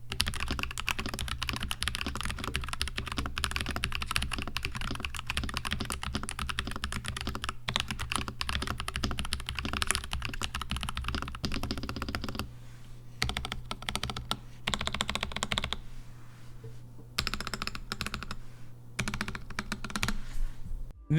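Continuous fast typing on a mechanical keyboard at close range, a dense stream of clicking keystrokes that thins into scattered bursts with brief pauses toward the end.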